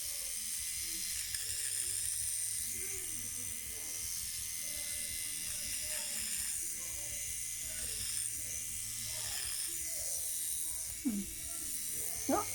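An electric trimmer cuts eyebrow hair after a hair transplant, producing a steady close buzz with small clicking and rasping changes as it moves along, continuous throughout.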